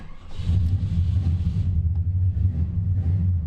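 Engine of a Jeep Grand Wagoneer running while the vehicle is driven, a steady low rumble with a slight rise as it pulls, heard from inside the cabin with no talking.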